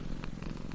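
A domestic pet cat purrs steadily and close up, a continuous low rumbling vibration with a gentle pulsing rhythm and no voices.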